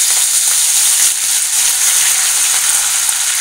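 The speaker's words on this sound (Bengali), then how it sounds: "তো এবারে আমি দিয়ে দেবো থেতালো আদা আর রসুন আর কাঁচা লঙ্কা।" Crushed ginger, garlic and green chilies frying in hot oil with bay leaves, whole garam masala and cumin, giving a loud, steady, dense sizzle with no pauses and no talk, while palak paneer is being made.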